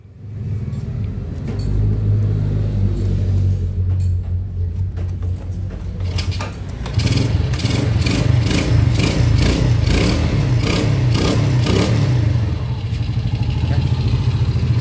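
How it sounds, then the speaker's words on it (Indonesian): A rebuilt Yamaha Jupiter Z motorcycle engine idles close by with a steady low putter, then settles into a smoother, slightly louder running rhythm with faint mechanical ticking. "Suara mesinnya sangat halus"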